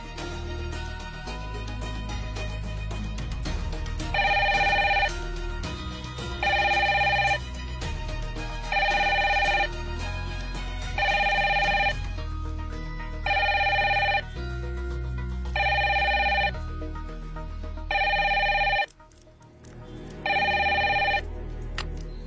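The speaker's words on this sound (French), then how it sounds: "Même Asha ne répond pas" A telephone bell rings again and again without being answered, about eight evenly spaced bright rings over a low background hum, clear and close.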